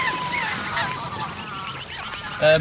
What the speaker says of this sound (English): Ducks are going batty.